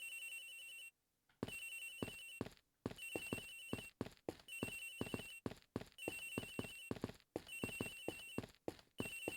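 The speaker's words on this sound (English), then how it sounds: "The ringing's coming from somewhere in here, sir." A cell phone ringtone repeats in regular electronic bursts with short gaps in the Ace Attorney Investigations video game, clear and steady with a few soft footstep-like clicks between rings.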